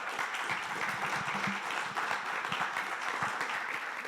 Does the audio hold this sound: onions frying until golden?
no